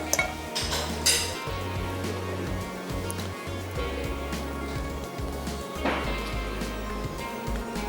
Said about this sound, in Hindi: एक अदद पैन लेते हैं और तेल डाल के रख देते हैं गर्म होने के लिए